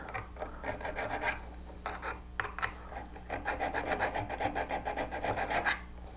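A V-parting woodcarving tool is being sharpened, with rapid rhythmic rasping strokes, close and steady, pausing briefly before resuming a fast back-and-forth scrape.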